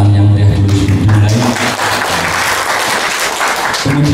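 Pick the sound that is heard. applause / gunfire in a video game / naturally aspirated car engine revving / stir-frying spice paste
applause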